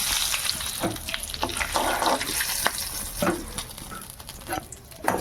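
Sugar tempering sizzles in hot oil for a Bengali village-style fish curry, a loud, continuous crackle and hiss with uneven spattering bursts, close to the pan.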